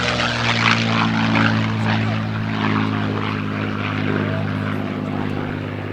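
A P-51D Mustang propeller plane at an airshow drones loudly and steadily overhead, its engine sustained across the whole stretch with a slight swell and fade as it banks past.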